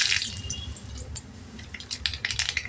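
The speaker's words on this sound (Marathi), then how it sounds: "मोहरी छान तडतडली" Mustard seeds spluttering in hot oil in a kadhai on a gas stove, with a steady run of small sharp crackles and pops over a low hiss that grow busier toward the end, close by.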